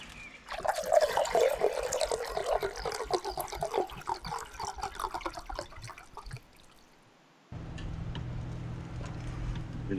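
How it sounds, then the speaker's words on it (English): Spray bottle misting a roughly 10% apple vinegar solution onto smoked pulled pork, a burst of close, hissing spritzes with fine crackly texture, then quieter steady background noise. "misting it again. And this just keeps it moist and keeps the edges from burning."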